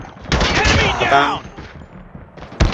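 Call of Duty gunfire, a rapid burst of automatic shots up close followed by a few more sharp cracks, with a voice talking over the shooting.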